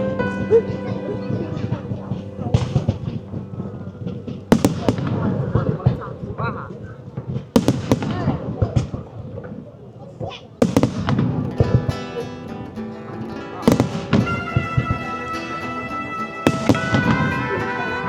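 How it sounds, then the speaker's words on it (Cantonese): Dense fireworks display at a Lunar New Year cherry blossom show at Yinna Mountain, Meizhou: loud, rapid bursts and crackles come in clustered volleys, several sharp bangs standing out, with people talking throughout. "好密集啊！佢哋啲煙花。"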